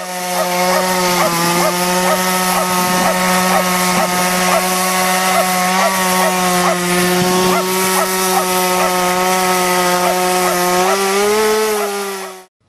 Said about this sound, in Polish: Przerębel wycięto przy pomocy piły.